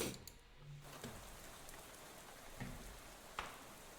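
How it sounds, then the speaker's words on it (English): Steady rain falls outside a bus in the Shadows over Loathing video game, a soft continuous patter with a few faint bumps, quiet and without speech. "Now we're in the bus, and it's raining and overall very, very moody."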